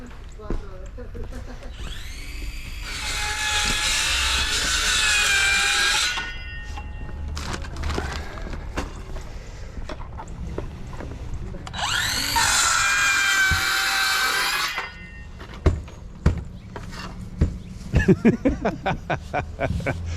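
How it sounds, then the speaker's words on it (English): A handsaw cuts wood on a contractor's job site in two bursts of rhythmic rasping back-and-forth strokes, close and fairly loud, followed by scattered knocks and clattering thuds near the end. "So I got time to fool around with a handsaw."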